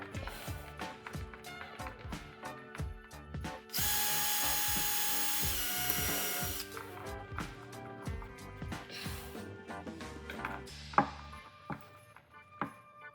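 A power drill drives screws to mount a faux wood blind bracket, with short whirring bursts, one longer steady run, and clattering knocks and taps of tools and hardware between, close up.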